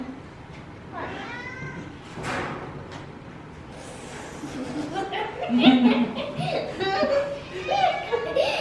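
Kittens at an animal shelter meow now and then while a child and an adult talk and laugh nearby, with the small cries rising over the voices toward the end.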